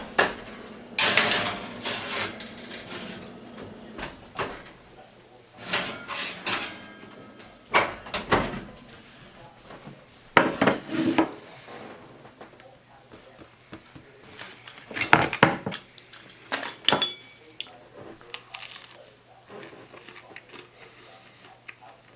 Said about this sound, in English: Now I'm going to turn around and put it back in the oven for another 10 minutes and see what happens.